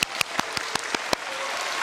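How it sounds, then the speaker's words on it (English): Audience applause at a college signing day for graduating students, a handful of distinct loud claps at first, settling into light, steady clapping. "can y'all give a round of applause for yourselves?"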